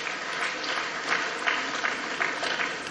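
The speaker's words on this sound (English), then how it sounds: "Please give him another round of applause." Audience applause fills a hall at the opening ceremony of the Nigeria International Energy Summit, a steady, dense wash of clapping that holds at an even level for the full stretch with no voices on top.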